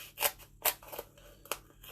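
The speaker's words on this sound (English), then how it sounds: "So we just chop it with your glue scissors." Glue scissors chop through a piece of foam in several crisp snips, close and fairly quiet, spaced irregularly with no talking.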